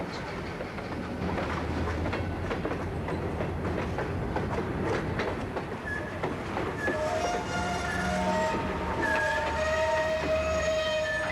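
An Idaho Northern and Pacific freight train pulls rough lumber loads with a buffer car and caboose along the Cascade Branch, a steady loud rumble of rolling cars with clanking joints, later joined by long sustained squealing wheel and brake tones.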